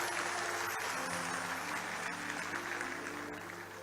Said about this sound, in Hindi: आपकी तालियां कमजोर पड़ गई हैं